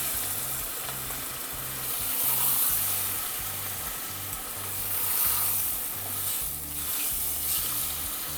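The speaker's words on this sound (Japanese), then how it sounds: "油の中で揚げ焼きにするイメージで" Red-meat steak shallow-frying in oil gives off a steady, loud sizzle that swells and eases in waves, with a low rhythmic hum running underneath throughout.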